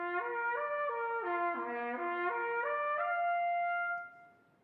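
A trumpet plays a basic flexibility exercise, with clear articulated notes slurring up and down through the harmonic series in a smooth stepped pattern. The tone is sustained and close, and it fades at the end.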